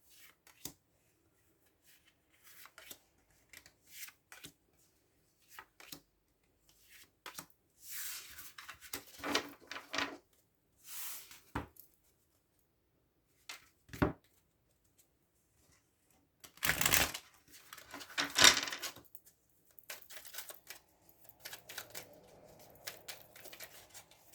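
Tarot cards from two decks are handled and drawn in a quiet room, with soft shuffling, rubbing and snapping sounds coming in scattered bursts, some faint and a few louder riffles.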